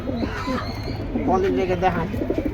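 Pigeons at a bird sale cooing in soft, repeated throaty phrases close by, mixed with people talking.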